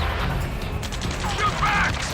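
Gunfire rattles through a firefight in Ace Combat 7, a steady wash of distant shots and clatter with some mechanical clanks and a brief whining tone, filling the whole stretch without pause.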